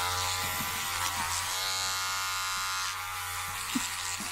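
An electric razor used to groom a dog buzzes steadily and loudly at close range for the whole stretch, its motor tone holding constant with small clicks and shifts as it moves.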